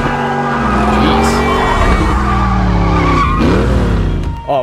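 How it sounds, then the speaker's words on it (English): In a John Wick 4 film scene, a car drifts with loud, sustained tire squeal over a roaring engine whose pitch rises and falls, close and intense throughout. "That entire car drift, just to show you it's actually Keanu in the car"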